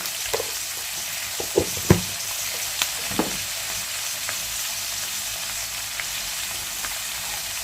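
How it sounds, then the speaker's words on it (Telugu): Sliced onions fry in a pan for a green chili potato fry, with a soft steady sizzle and a few sharp clicks and knocks of stirring scattered throughout. "ఉల్లిపాయ ముక్కలు అనేది కాస్తంత వేగినాయండి"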